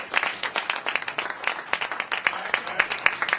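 An audience at a lecture gathering applauds a DJ, brisk and fairly loud clapping from a room full of people that holds steady for a few seconds.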